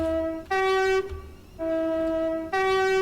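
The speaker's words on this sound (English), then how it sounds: "Bit of horn." Horn of a Class 700 Desiro City train in Train Simulator 2022 on the Chatham Main Line, sounded as two-tone blasts. The high note alternates with a lower one, each held for about half a second, loud and clear over faint track rumble.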